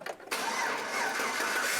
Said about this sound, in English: Then we'll go ahead and crank up the truck.